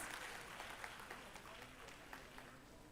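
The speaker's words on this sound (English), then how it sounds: "Guys, please give a huge round of applause to the winners." Crowd applause for the winners at an event, a very faint, continuous patter of many hands with a few sharper individual claps standing out, heard at a distance.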